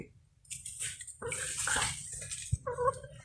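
Pieces of stingray fish are swished and rinsed in water, with splashing and pouring in uneven bursts close by, a sharp knock partway through, and no talking.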